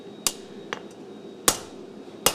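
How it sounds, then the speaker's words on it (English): Power hammer striking hot metal at a forge, four sharp, loud impacts at uneven intervals, each with a brief ringing decay, alone with no talk. "I have a power hammer,"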